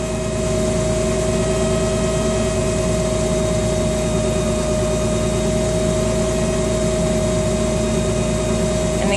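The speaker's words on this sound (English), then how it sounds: "we're running the power takeoff" Farm tractor engine running steadily with its power takeoff driving a feed mixer as silage is loaded, a continuous loud drone with a constant whine and no pauses.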